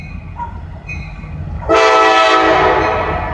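CSX freight train led by an EMD locomotive, the horn blasting loud and close partway through and holding steady over a low rumble.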